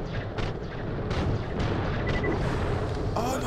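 A newly acquired gun fires in Borderlands: The Pre-Sequel, loud rapid booming shots and explosive bursts coming in quick succession over a rumbling game soundscape.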